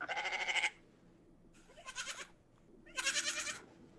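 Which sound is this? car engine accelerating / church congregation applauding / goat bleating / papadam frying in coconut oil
goat bleating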